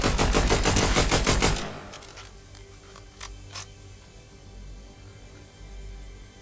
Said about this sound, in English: I've got just how fast this assault rifle actually gets.